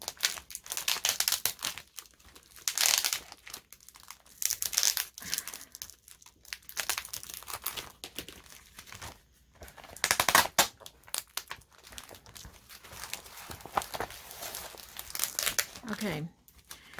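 Tape is peeled and torn off a Goodwill thrift store item, giving repeated crinkling, ripping bursts at close range over about seventeen seconds, with scattered talk mixed in.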